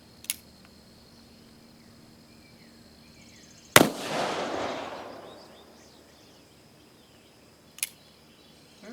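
A single sharp revolver shot from an Uberti Colt 1861 Navy fired at 10 yards cracks loudly and leaves a long decaying echo, with a couple of faint clicks before and after.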